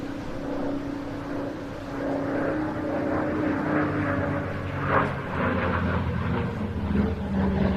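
A Swedish Air Force aircraft with a 1,065 horsepower Pratt & Whitney radial engine dives past at the Jersey International Air Display, a steady droning propeller roar that swells and holds at moderate distance throughout.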